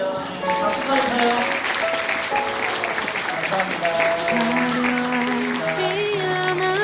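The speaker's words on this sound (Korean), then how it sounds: "박수 쳐주세요." A congregation applauding during a church New Year's Eve service, steady clapping throughout under sustained organ or keyboard chords, full and fairly loud.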